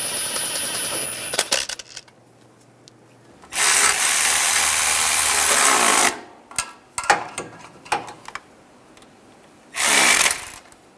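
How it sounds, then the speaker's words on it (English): A ratchet wrench snugs down the catalytic converter bolts on a 2011-2018 Ram 1500 with the 3.6L V6, heard as two long, loud bursts of ratcheting with shorter clicks and knocks between them and no talking. "We're going to snug these bolts down."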